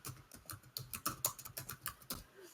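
Keys clatter quickly on a computer keyboard as a name is typed, with a dozen or so light, close clicks in an uneven burst and no voices.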